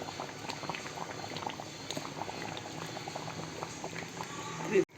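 Nellore-style fish curry bubbles in a pot, a continuous soft gurgling boil with small pops, fairly quiet and steady throughout.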